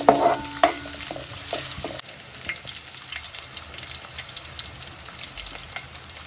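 Crushed garlic frying on a low flame in oil, a steady soft sizzle with light stirring scrapes, busier and louder in the first two seconds, then a quieter continuous crackle.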